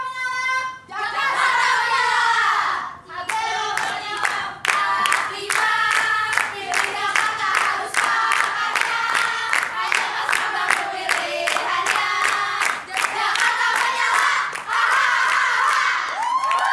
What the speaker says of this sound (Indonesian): Saya ingin mendengar dulu yel-yel dari pasangan nomor urut 3.